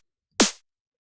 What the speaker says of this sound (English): So this is a snare.